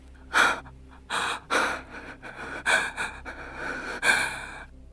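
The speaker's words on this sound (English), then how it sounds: "Only her breathing fills the room." Heavy, ragged breathing in a quiet room as a woman slumps against a shed door in an audio drama, with about six loud gasping breaths at uneven intervals, close and alone with no talk.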